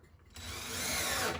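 A power drill or driver whirs steadily as a screw is driven into a lower drawer during installation, the motor starting after a brief quiet moment and running close and loud to the end.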